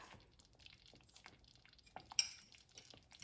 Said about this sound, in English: And give this a good mix.